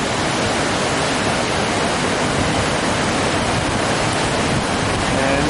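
Water pours steadily over the old dam at Buffalo Creek beside a grist mill, a loud, continuous rushing roar with no pauses, heard up close without any talking.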